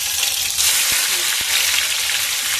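Two eggs sizzle and crackle in a hot frying pan, a bright continuous hiss with a couple of sharp taps from a utensil partway through.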